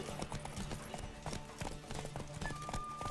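A horse gallops in Witcher 3, its hooves striking a fast, steady, even rhythm close up and fairly faint, with a thin tone rising near the end.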